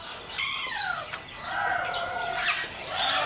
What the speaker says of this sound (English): check out the macaw right behind you.